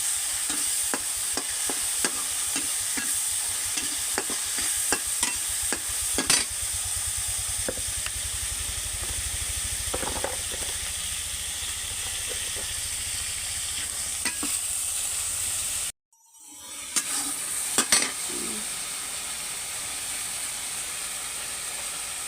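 Shrimp and garlic sizzle steadily in a hot pan, with repeated scrapes and taps of a stirring utensil, briefly cutting out before the frying resumes.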